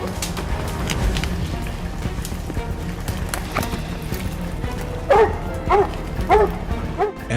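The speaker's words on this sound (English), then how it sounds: "Moments after the hounds are sent to search for the boar, they suddenly start barking hysterically." Hunting hounds searching a Scandinavian woodland for a boar bark frantically in a noisy, jumbled scene, with a few sharp repeated barks standing out near the end.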